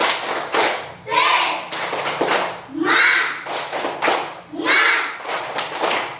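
Primary schoolchildren in a classroom clap a rhythmic tepuk semangat pattern in loud, close bursts, alternating with shouted chanted words in several repeated rounds.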